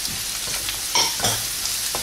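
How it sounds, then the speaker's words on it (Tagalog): Onion, garlic and ginger sizzling in a hot pan for a dish of tilapia in coconut milk, a dense close frying hiss with a couple of brief stirring scrapes and no talking. "gisa-gisa lang natin maigi"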